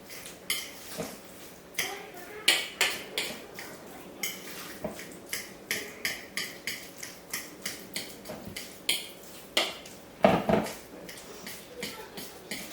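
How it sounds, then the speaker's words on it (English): Homemade guacamole is stirred and mashed in a bowl, a utensil clicking and clattering against the bowl in a fairly regular series of sharp taps, close and moderately loud, with no speech. "I'll stir it around as well, and that'll help smash it up too."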